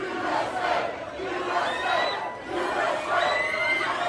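Large stadium crowd at an Alabama-Georgia college football game at Bryant-Denny Stadium in Tuscaloosa roars and chants in rising and falling swells, with shrill screams and whoops, a dense, loud wall of voices throughout.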